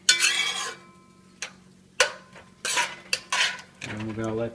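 A utensil clinks and scrapes against a pot while sofrito sautés for arroz con gandules, with several sharp metallic knocks spaced irregularly over a faint sizzle, close by and fairly loud.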